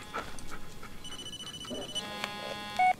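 An in-game phone in Blair Witch rings for about a second, a bright electronic trill, with a dog whimpering and a soft footstep-like rustle before and after, then a short electronic beep near the end.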